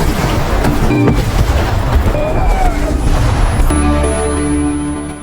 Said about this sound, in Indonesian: Mereka dibombardir.